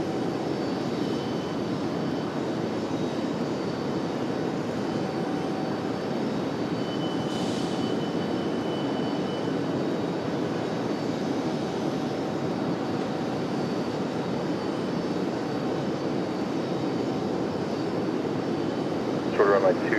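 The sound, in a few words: United airliner jet engines at airport departure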